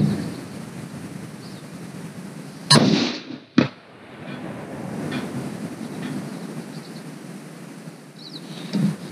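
Rifle shots at long range striking a 6-inch steel target plate: a loud, sharp crack, a second sharp crack moments later, and a fainter crack at the end, over steady outdoor background noise.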